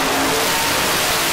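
A competition car revs hard while spinning a donut at a drag-style event, the engine a loud, dense, steady roar that fills the short moment with no voices over it.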